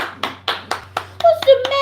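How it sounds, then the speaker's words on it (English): Hands clap in a steady, even rhythm, about eight sharp claps close to the microphone, with a voice sounding over the last few. "Everybody clap your hands."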